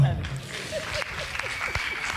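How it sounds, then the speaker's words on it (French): At a beauty pageant final, the audience claps for a lady, a brief round of moderate applause with a voice speaking over it. "applaudissez pour la dame là"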